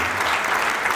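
A crowd at the Veer Banda Bairagi ceremony in Gohana breaks into a brief burst of loud, dense applause.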